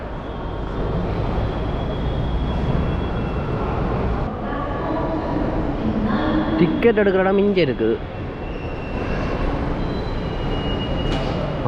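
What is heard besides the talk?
Chennai metro station ambience with trains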